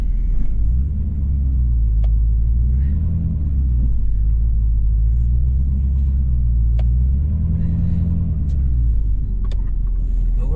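A pickup truck plowing heavy snow over a bank, its engine giving a loud continuous low rumble that rises and falls in two slow revving swells, with a few faint clanks.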